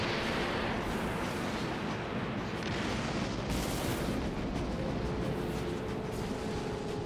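Flechettes launch from a spaceship during combat in the space game Dreadnought, a dense, continuous roar of rumbling blasts and booms that holds steady throughout with no clear breaks.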